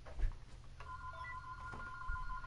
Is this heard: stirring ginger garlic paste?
no